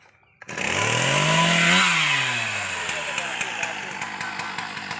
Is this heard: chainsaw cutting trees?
yes